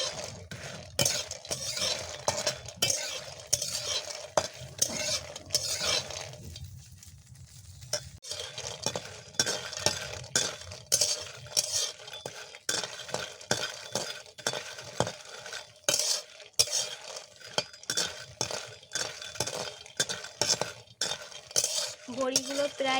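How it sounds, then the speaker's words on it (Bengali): Lentil bori frying gently in mustard oil are stirred in a pan, giving repeated scraping clinks of a utensil against metal over a soft sizzle, with no talking. "হালকা করে ভেজে নেব।"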